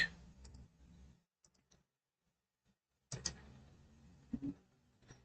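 Sharp, dry computer mouse clicks during a programming tutorial, scattered in small bursts with a silent gap between them, close and fairly quiet.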